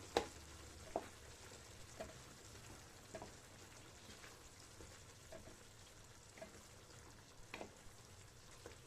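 Beef sauté with red pepper flakes and tomatoes sizzles steadily in a pan, a soft constant frying hiss broken by occasional sharp scrapes and clinks of stirring.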